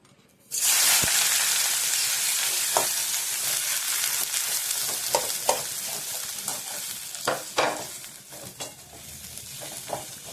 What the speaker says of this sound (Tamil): நல்லாவாக பொரிச்சிட்டோம் அப்புறம் வெங்காயத்தை போட்டுருவோம்